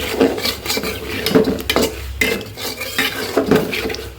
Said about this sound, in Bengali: এখন একটু নুন ইলিশ দিয়ে আবার একটু কষিয়ে নিব